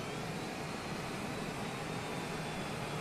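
A steady, even airplane engine drone inside a flight simulator game, holding a constant whooshing roar throughout with no breaks or other sounds.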